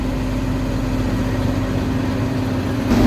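Loud, steady drone of a straight-piped tractor engine working a soybean harvest, running continuously with a constant pitch and a slight rise in level at the very end.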